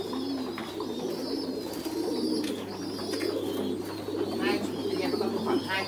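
Pigeons on a pigeon farm coo repeatedly and overlap into a soft, steady murmur from close by, with background voices.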